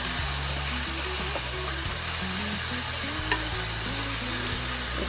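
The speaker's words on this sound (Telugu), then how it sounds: "ఇది ఫ్రై చేసుకున్నాను." Curry leaves and ingredients for tamarind leaf chutney frying in hot oil, giving a steady, close sizzle that runs unbroken throughout with faint stirring clicks and no talk.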